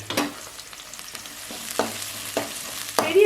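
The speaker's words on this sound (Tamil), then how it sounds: "பெரிய வெங்காயத்தை நல்லா நல்லா வதக்கணும்" Big onions sautéing in a pan, stirred with a utensil: a steady low sizzle broken by several distinct scraping stirs, close and fairly quiet, with no talk over it.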